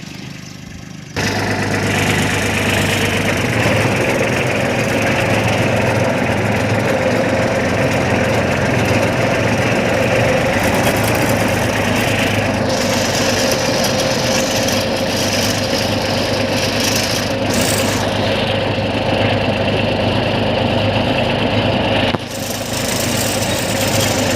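A tractor engine runs continuously at a steady, loud idle-like drone, with a slight shift near the end and no voices.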